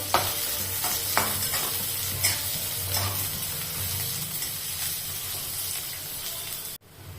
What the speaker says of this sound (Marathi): एक कांदा घेतलेला आहे मोठा तो असा बारीक कापून घेतलेला आहे पातळ उभा छान असा लाल होऊ द्यायचा